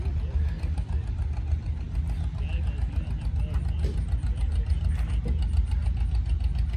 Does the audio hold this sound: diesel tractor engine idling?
yes